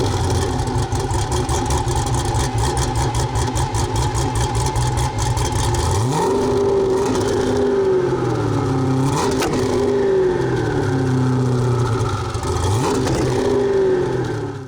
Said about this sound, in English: Take a listen to a startup from the Venom F5 and then a couple of revs.